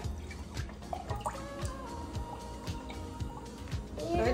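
Strawberry milk is poured, giving a run of quick drips and splashes with a short liquid gush near the end, close and fairly quiet.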